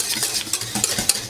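Berry trifle custard boiling in a pot under brisk, constant stirring, with a spoon scraping and clinking against the sides in quick irregular strokes over bubbling.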